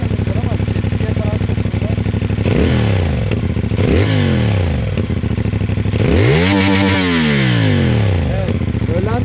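A CFMOTO 450SR motorcycle's exhaust roars through several sharp revs, each rising and falling in pitch, the strongest near the end, loud and close with people talking over it.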